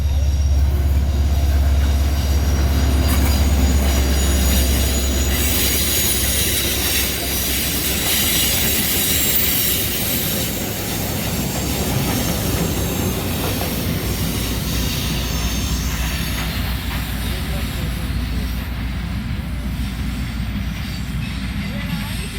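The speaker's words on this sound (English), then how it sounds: "we spot a G8 locomotive running light" An EMD G8 diesel locomotive running light, without a train, rumbles steadily nearby on a Cuban line with a deep low drone, metallic rail noise and occasional wheel squeal, continuous throughout.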